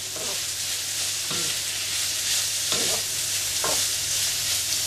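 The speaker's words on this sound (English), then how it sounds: "we're just tossing everything together so all the flavors get mixed" Italian bubble and squeak sizzling loudly in a frying pan, with a few scraping tosses and stirs at regular intervals over the continuous hiss.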